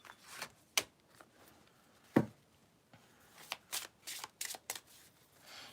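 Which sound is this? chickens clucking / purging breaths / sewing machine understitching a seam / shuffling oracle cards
shuffling oracle cards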